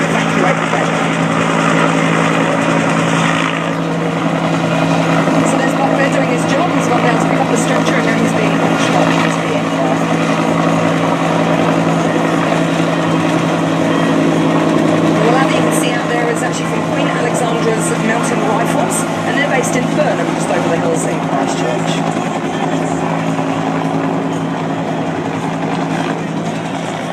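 A Bell UH-1H helicopter of the Royal New Zealand Air Force hovers in position during a rescue demonstration. Its steady, loud rotor and engine drone runs through the whole clip, with a faint sharp rhythmic chop showing at times.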